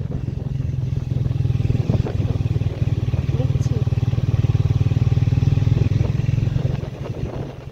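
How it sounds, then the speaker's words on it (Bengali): Several Triumph Speed 400 motorcycles ride slowly along a road in Meghalaya, giving a steady, loud low engine drone with light clatter that continues throughout and fades slightly near the end. "আমরা 3জন মিলে বাইক নিয়ে আস্তে সুস্তে এগোচ্ছিলাম"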